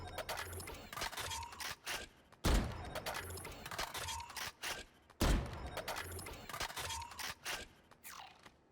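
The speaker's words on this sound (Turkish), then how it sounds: "Mermi değiştirme animasyonu bu şekilde." Delipop-skinned Vandal rifle being reloaded in Valorant, a quick run of mechanical clicks, scrapes and metallic clacks, with two heavier thumping impacts spaced a few seconds apart, fairly quiet and close.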